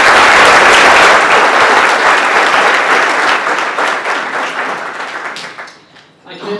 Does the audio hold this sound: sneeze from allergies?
no